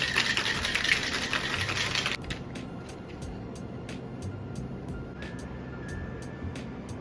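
A cocktail shaker holding ice and an egg-white strawberry daiquiri rattles in a dense, rapid burst for about two seconds, then falls quiet, leaving faint, evenly spaced ticks.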